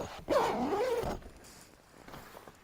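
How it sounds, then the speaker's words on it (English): A single quick tent zipper pull, from inside a bivy tent, rasps loudly for about a second, followed by quieter rustling and handling of fabric. "we're gonna try to zip it up one more time from the inside"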